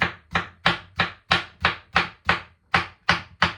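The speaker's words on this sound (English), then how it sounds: "So we quickly chop our cucumber" A knife chops through cucumber on a board in eleven crisp, evenly spaced strikes, each one sharp and close with a quick decay, and no voices.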